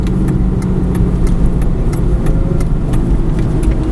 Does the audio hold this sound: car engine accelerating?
yes